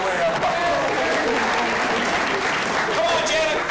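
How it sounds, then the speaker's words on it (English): Audience applause for a woman called up from the crowd at a horror makeup show, a steady dense wash of clapping that holds throughout with a few voices faintly mixed in. "get a round of applause for Janet all the way from Korea"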